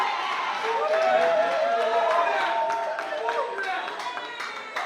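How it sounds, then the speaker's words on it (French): A crowd at an awards ceremony applauds steadily, a dense wash of clapping that swells and slowly fades, with some cheering mixed in. "Encore des applaudissements nourris pour Bellevue, Candy."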